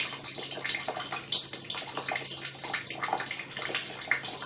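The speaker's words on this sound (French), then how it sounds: "nous allons retenter de rincer le rampant" Water rinsing down a stair handrail, a steady splashing and trickling stream with irregular spatters and drips, moderately close and heard alone.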